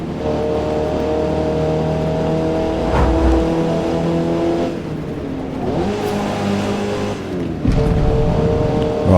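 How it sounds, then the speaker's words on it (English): A Mazda MX-5 race car engine drones loudly and continuously in the Forza Motorsport video game, holding a strained pitch with a couple of brief shifts and dips, with no voices over it. "it's barely accelerating up this hill. Come on, little MX-5."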